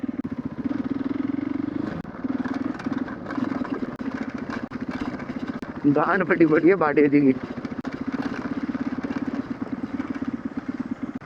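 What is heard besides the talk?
motorcycle engine while bringing bikes down a slope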